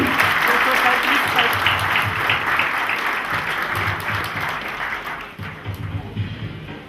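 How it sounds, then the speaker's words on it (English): An audience claps continuously at a Fiesta 2013 celebration, with loud, dense applause that carries on throughout and eases slightly toward the end, with a murmur of voices underneath. "Clapping."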